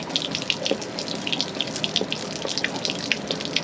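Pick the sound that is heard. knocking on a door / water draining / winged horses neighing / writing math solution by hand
water draining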